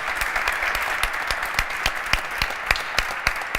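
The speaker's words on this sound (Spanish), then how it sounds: "Saray, José María, fuerte el aplauso." Applause from an audience at a family-business conference, made of sharp, distinct hand claps at a moderate pace, fairly close and somewhat sparse over a soft background.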